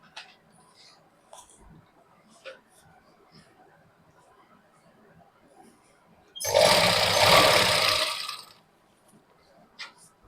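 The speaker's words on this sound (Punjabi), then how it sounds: "ਉੱਪਰ ਰੱਖ ਕੇ ਆਪਾਂ ਲਗਾਵਾਂਗੇ ਸਲਾਈ" A sewing machine runs in one continuous burst of about two seconds while stitching a pocket onto palazzo trousers, preceded and followed by quiet handling noises and soft talk.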